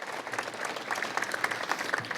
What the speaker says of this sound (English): One more round of applause for Matt, Jeff, and Andrew.